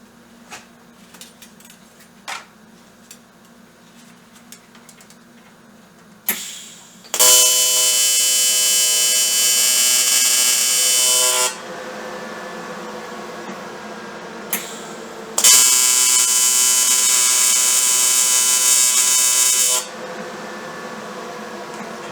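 Tack welding on a BSA B50T motorcycle: two loud, sustained buzzing arc bursts of about four seconds each, separated by a pause, after quieter clicks and handling noises.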